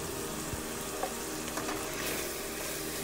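Onions and minced garlic sizzle steadily in a thin layer of vegetable oil in a pan, with a loud, continuous frying crackle and no talk.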